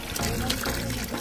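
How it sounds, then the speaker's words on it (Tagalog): Tap water runs steadily from a faucet in a house, a continuous broadband rush that fills the whole moment without pause, close and moderately loud. "ang ganda ng lumalabas ng tubig dito"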